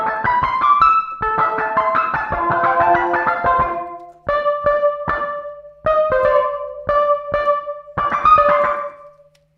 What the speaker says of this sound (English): Mellow organ. Yes, that's also a usable sound.